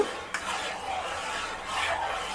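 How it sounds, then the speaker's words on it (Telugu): A spoon stirs a mango ice cream mixture in a pot, steady soft scraping and swishing with a couple of light knocks against the pot, close and alone. "ఇలా వేస్తూ కలుపుకోవాలండి, అడుగు అంటుకోకుండా ఇలా కలుపుతూ"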